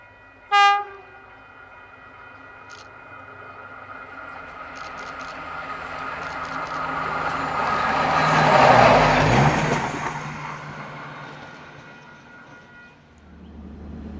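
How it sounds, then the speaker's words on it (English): A KiwiRail track evaluation car built in the early 1980s sounds a short horn blast, then rumbles past, swelling to a loud close peak before fading away, with no talk. "This is KiwiRail's track evaluation car"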